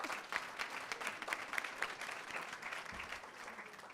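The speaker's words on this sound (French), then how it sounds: "Applaudissons-les." Graduation ceremony audience at Collège Boréal applauds the graduates, a soft, somewhat distant and steady patter of many hands that continues evenly throughout with slight swells.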